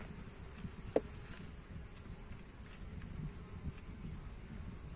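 Honey bees buzz around an open hive in a quiet outdoor setting, a faint, continuous drone with scattered individual insects passing closer to the microphone and one brief sharp tick near the start.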